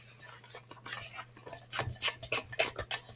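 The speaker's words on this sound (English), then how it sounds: "All right, we are whisking it all together." Cake batter is whisked in a bowl, producing quick irregular metallic clinks and scraping taps, close and moderately quiet, with no talk.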